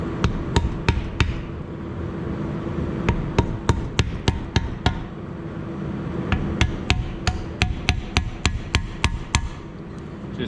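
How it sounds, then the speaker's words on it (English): A claw hammer strikes brake parts on a workbench, delivering a long run of sharp, loud metallic blows at an uneven, fairly quick rhythm, some in tight clusters, with no talk. "instead I have a claw hammer."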